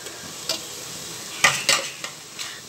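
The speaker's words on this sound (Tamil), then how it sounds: "இப்போ இதல நம்ம காயை கலந்துறலாம்." Grated beetroot being stirred into biryani masala in a pan, with a few distinct scraping strokes and a soft sizzle underneath, close and fairly quiet.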